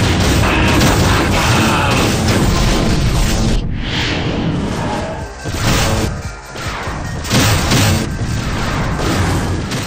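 Explosions in the space combat game Wing Commander: Secret Ops, a dense, loud barrage of booming blasts and crashes that rolls on almost without pause, with a couple of brief dips, no talking.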